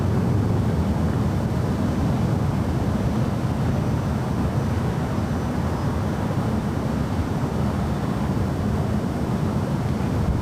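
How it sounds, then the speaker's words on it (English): Delta Airlines Boeing 737-900ER arriving on runway 6 right at LAX during a big storm, a steady, broad jet roar held at an even level with wind noise, no talking. "Next arrival here on the north side and 6 right is Delta Airlines flight 1468 coming from Minneapolis"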